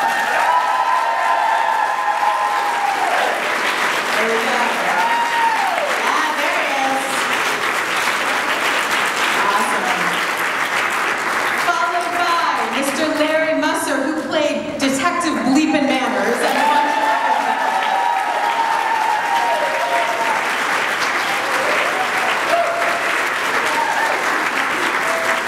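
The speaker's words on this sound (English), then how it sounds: "give them a big round of applause" An audience claps and cheers for a panel at a convention, steady dense applause sustained throughout, with an announcer's amplified voice speaking over it.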